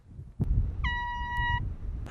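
A single distant air horn sounds one sustained, steady tone for under a second, heard over faint outdoor rumble with a couple of sharp clicks.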